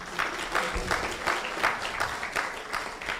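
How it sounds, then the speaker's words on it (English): An audience at a national youth council emerging youth leaders awards ceremony gives a round of applause, a moderate, steady patter of clapping that carries evenly through the room. "give yourself a round of applause for being early"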